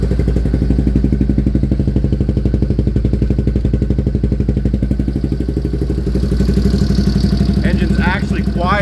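A Yamaha 366 big bore engine idles on its first start, a close, loud, rapid even clatter of firing pulses that holds steady, then revs slightly near the end as a voice speaks briefly.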